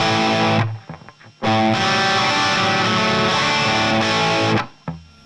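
Distorted electric guitar plays a chugging riff with brief palm-muted gaps, then sustains long ringing chords before cutting off and restarting.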